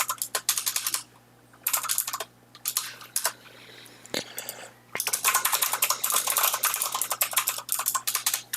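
Fast, close typing on a computer keyboard while writing SQL code, heard as dense rapid keystroke clatter in several bursts with short quiet gaps, then a long continuous run of keys.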